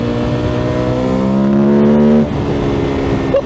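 A car engine climbs in a steady rising drone on a winding road after a downshift, loud and close with a rich harmonic tone, then cuts off sharply and settles into road rumble.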